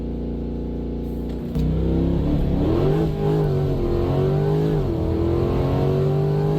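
A C8 Corvette launching hard from a dead stop: a steady idle jumps into a loud, close engine roar that climbs in pitch through a gear change and keeps pulling strongly to the end.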